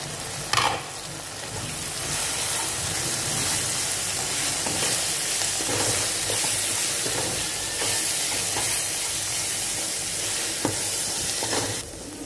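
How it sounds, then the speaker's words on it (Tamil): Chilli powder, coriander powder and chicken masala fry in hot oil, giving a steady close sizzle with soft stirring scrapes running the whole time, no voices. "இதை வந்து இந்த எண்ணெயில் போட்டு நம்ம நல்லா வறுத்துக்கலாம்."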